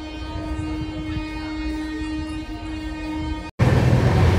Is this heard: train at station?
yes